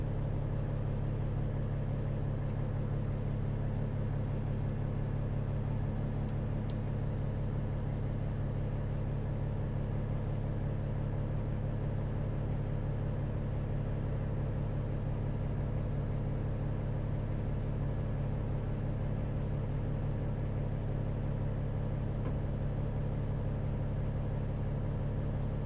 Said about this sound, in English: Big old farm tractor coming down.